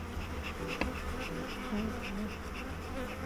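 Dense, steady buzzing of many honeybees close by, a busy droning swarm with no talking.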